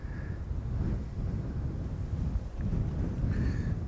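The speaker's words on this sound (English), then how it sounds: "the wind is turning more westerly and also is picking up gradually, as was expected." Wind blowing at Amsterdam Schiphol airport, a steady rushing roar buffeting the microphone in waves with low rumble throughout, close and continuous.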